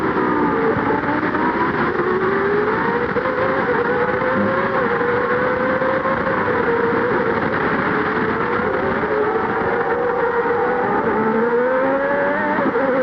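A high-pitched Formula 1 Honda V10 racing engine screams continuously, its pitch dipping and climbing as it slows through a chicane at Monza then builds to 13,000 RPM, loud and close.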